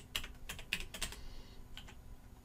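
Quick bursts of key presses on a computer keyboard as a folder name is typed into the Windows 11 Explorer address bar, a handful of close, soft clicks in a short run, with no talking.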